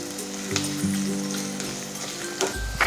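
Chopped onions and green chillies fry in a pan as part of making spinach rice, a steady close sizzle with soft crackles and a few clinks from stirring near the end.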